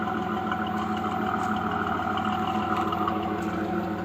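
A 1991 Firebird with a 3.1 V6 idles after its muffler and exhaust were fixed, giving a steady low rhythmic rumble, close and constant with no talking.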